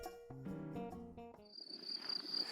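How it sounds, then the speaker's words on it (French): A soft musical passage fades out and crickets take over outdoors along a walking path to Saint-Guilhem, a thin, high, steady trill pulsing quietly in the background. "Le chant des grillons et le murmure du vent me poussent à la rêverie."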